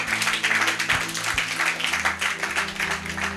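A church congregation claps during a Bible teaching, a steady, fairly loud patter of many hands that continues for a few seconds.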